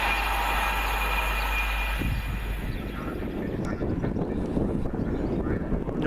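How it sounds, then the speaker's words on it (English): A northbound Pendolino passenger train, service 1H70 from London Euston to Manchester Piccadilly via Crewe, passes at speed near Cheddington, a loud rushing roar with wind buffeting that eases slightly partway through. "Northbound Pendolino"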